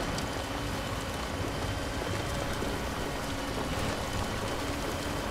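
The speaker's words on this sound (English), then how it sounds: "Why is it always raining over here?" Timefall rain pours steadily in the video game Death Stranding, a dense, even hiss of falling water that holds at the same level throughout with no voices.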